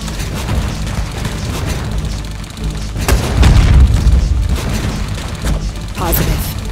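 Gunfire and heavy explosions in the Iron Marines video game: loud booms and bursts over a dense battle din, one big blast swelling midway, with game voice lines mixed in.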